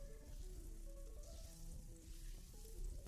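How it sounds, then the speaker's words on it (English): Butter melts in a preheated pan with olive oil, giving a soft, continuous sizzle and crackle that stays low and steady, with faint background tones and no talking. "Then add butter and let it melt."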